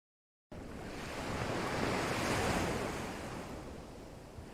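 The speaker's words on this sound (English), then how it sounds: "The tide comes in, the tide goes out" Ocean waves roll in with the incoming tide, a steady broad wash that swells toward the middle and eases slightly, close and continuous after a brief silence, with no voices.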